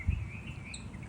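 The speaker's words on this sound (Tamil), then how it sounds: "இது வந்து ரெட் வென்டட் புல்புல் குருவியோட குஞ்சு." A red-vented bulbul fledgling gives thin, high chirping calls in a steady run over a low background rumble, faint and close by, with no talk.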